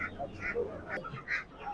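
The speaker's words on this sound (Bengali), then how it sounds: "এই যে নিচে এখানে হাঁস আছে" Ducks, including Chinese and Raja breeds, at a duck market in Karwan Bazar, Dhaka, give repeated nasal quacks in quick bursts, close and moderately loud, with people talking over them.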